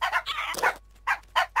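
Parrots in Minecraft give short, sharp squawks and chirps, a quick burst of calls, a pause, then two more clipped squawks, close and clear.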